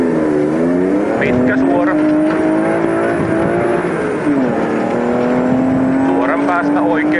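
Rally car engine revving hard and pulling away, loud and sustained with rising and falling pitch as it accelerates at a Finnish rally stage in Nivala, with a co-driver's voice calling pace notes over the engine throughout.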